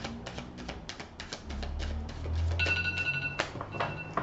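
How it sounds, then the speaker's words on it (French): An alarm clock rings with repeated bell-like tones across the clip, joined by a sustained electronic beeping tone partway through, fairly close and with no talking. "Ça, c'était mon réveil qui était prévu"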